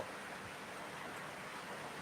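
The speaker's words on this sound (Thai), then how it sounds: "มาพร้อมกับ สายฝน สายฝนรวยดิน ถ้าแมนดับไป ก็คือฝนตกเด้อ" Rain falls in a soft, steady wash, a faint and even hiss throughout with no voices on top.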